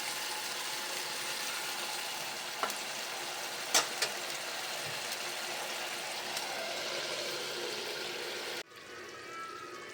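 Radish and prawn curry sizzles under a lid in a pan, a steady soft hiss broken by a few sharp clicks and pops before the sound drops away abruptly near the end.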